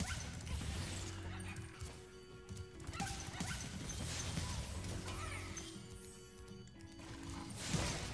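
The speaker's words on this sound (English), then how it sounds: "Dog bark, adorable." A dog barks in the video game Spyro the Dragon, short yipping barks amid dense game music and crashing effects, faint and partly buried in the busy mix.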